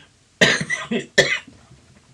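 Two harsh coughs close up, each a sharp burst trailing off into a rough rasp, separated by a brief pause in an otherwise quiet room.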